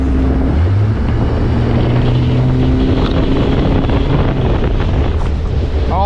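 A Triton X17 small tin boat's motor roaring up for a hole shot, pitch climbing amid heavy wind buffeting and splashing water.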